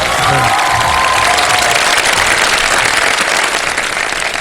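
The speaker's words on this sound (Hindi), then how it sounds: "अब तालियां बजाने का वक्त है" Loud, dense studio audience applause at a televised Ramadan Sehri show, a continuous roar of many hands clapping with some cheering, sustained throughout at full strength.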